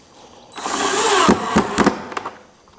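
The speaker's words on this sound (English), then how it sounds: "And then I have two horizontal screws to put in." A power drill drives horizontal screws into a country cottage style coffee table, giving a short loud whir followed by a few sharp clicking bursts as it stops, with no talk.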